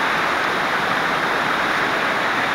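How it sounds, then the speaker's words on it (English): A waterfall roars in a dense, unbroken rush of falling water, loud and close, with no other sounds over it. "Hearing the noise of it, the water falling."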